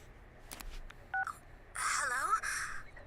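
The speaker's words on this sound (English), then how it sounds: "Your phone is ringing." Phone ringing in the video game Persona 4: a short electronic ring of rising and falling trill tones, with a brief chime beforehand, fairly quiet and alone.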